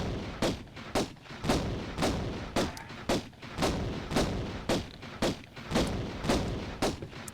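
Steady gunfire in a video game while exploring the Sanctuary of the Scion, a run of about a dozen sharp, evenly spaced shots that sound close and loud, with a little low rumble between them and no talking.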